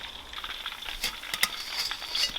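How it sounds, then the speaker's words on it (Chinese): Fish pieces deep-frying in plenty of oil in a wok, a steady close crackling sizzle with a few sharper pops, alone without talk. "现在锅头多来点油，把鱼块放进来。 给它炸得有点焦焦的了就可以了"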